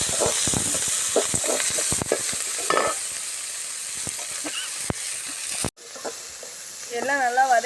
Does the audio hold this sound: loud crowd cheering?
no